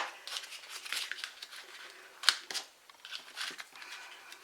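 Craft paper being trimmed with scissors while shaping a paper fan vase: a series of light crisp snips and rustles, close and fairly quiet, with one sharper cut near the middle and no talking.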